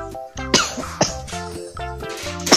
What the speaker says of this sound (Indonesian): Ada aku batuk-batuk guys.